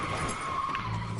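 A car skids in the L.A. Noire video game, giving a steady loud tire screech that carries on without a break and stands alone with no talk.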